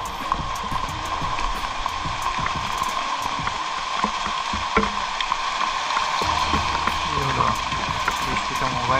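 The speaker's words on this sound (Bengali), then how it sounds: "মুসলধারায় বৃষ্টি পড়ছে" Heavy rain pours outdoors in a dense, constant hiss, with scattered sharp taps and splashes from drops hitting nearby surfaces, heard fairly close.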